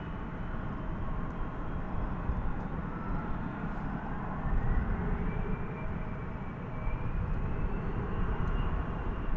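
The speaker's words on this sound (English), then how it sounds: "That is American Flight 824. It's going to Ontario, California. It's an Airbus A321." American Airlines Airbus A321 on flight 824 at Dallas Fort Worth airport at night, a steady distant jet engine roar with a faint rising whine, moderately quiet and continuous.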